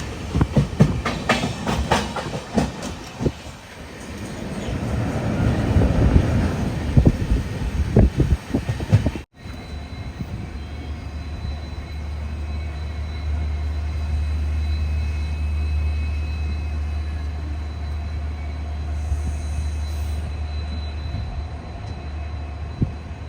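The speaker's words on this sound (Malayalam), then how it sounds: "ബംഗളൂരുവിൽ നിന്നും 362 കിലോമീറ്റർ യാത്ര ചെയ്ത് ട്രെയിൻ ഇതാ മംഗളൂരു ജംഗ്ഷൻ റെയിൽവേ സ്റ്റേഷനിലേക്ക് എത്തിക്കൊണ്ടിരിക്കുകയാണ്" Bengaluru–Mangaluru weekly express rolling into Mangaluru Junction: loud clattering wheels and rail noise early, then a steady low rumble of the slowing train after a brief cut, with no voices.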